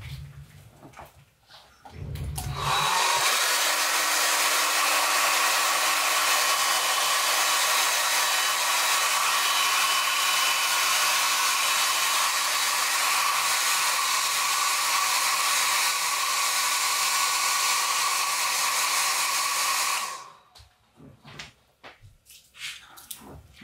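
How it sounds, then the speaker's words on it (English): A hair dryer blows on wet watercolour paint, switching on with a click and running as a loud, steady whooshing roar for about seventeen seconds before cutting off. "I'm just going to put the hairdryer on that."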